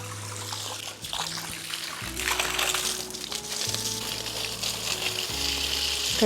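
Water is poured onto potted flowers, a close trickling splash that runs unevenly in spurts over steady tonal background sounds, with no talking.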